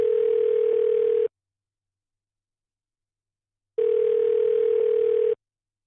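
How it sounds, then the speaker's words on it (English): A telephone rings on an outgoing call, sounding two long, even tones separated by a silent gap, clean and close. "We're ringing you right now, Christian."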